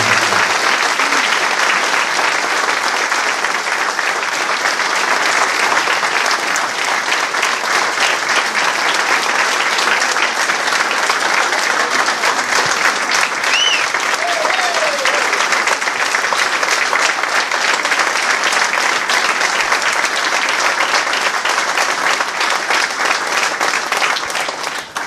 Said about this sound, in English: let's give Mayor Henry a round of applause